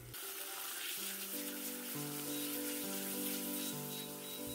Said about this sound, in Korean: 냄비에 올리브유를 한 큰술 남짓 넣고 소고기를 볶습니다